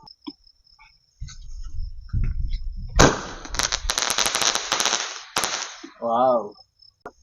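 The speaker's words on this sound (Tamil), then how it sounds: "ஃபர்ஸ்ட் பார்த்தீங்கன்னா இந்த சின்ன வானவெடியிலேருந்து ஆரம்பிக்கலாம்." A sharp whoosh and bang from a small sky rocket firework, followed by a rapid crackling burst of small pops, then a voice calls out afterward.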